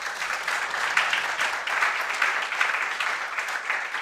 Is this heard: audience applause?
yes